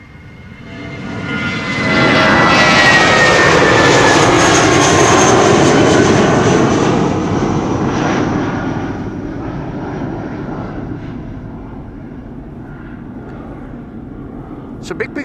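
A jet airliner takes off from the Polderbaan runway 36L at Amsterdam Schiphol: a loud engine roar builds over about two seconds, holds strong, then slowly fades into the distance while a voice talks over it.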